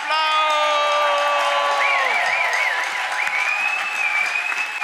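Loud applause and cheering from a comedy-show audience, the dense clapping filling the room, while a sustained sung or played melodic line rings over it before the crowd noise carries on alone.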